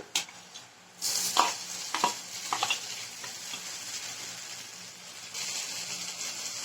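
Sabudana khichdi with roasted peanuts is stirred in a frying pan over medium flame, giving close, repeated scraping stirs over a continuous sizzle, with the frying hiss swelling louder toward the end.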